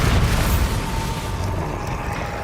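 A Bombarda spell explosion in Hogwarts Legacy opens with a loud, deep boom, then fades into a sustained rumbling roar with no speech.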